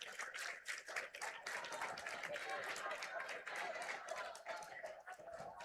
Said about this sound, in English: It's a nice ovation from the crowd.